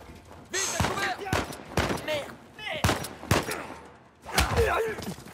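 Sniper gunfire in the video game Uncharted 4 comes as several sharp, loud shots spread through the moment, with game sounds and movement around them.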